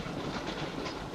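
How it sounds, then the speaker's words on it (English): Train in the horror film Horror Express, a faint steady rumbling chug of rolling stock heard alone, ending in a brief sharp burst. "So the train is chugging away en route to its destination"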